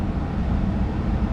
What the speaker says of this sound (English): or at least turn the fan on while I'm talking to you guys